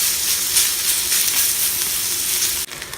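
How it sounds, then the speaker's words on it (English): Bacon sizzles steadily in a discada, its fat rendering with a dense, continuous crackling hiss that stays loud and even before cutting out abruptly near the end. "We start with the bacon first. We want to render all that bacon fat and cook everything else in it."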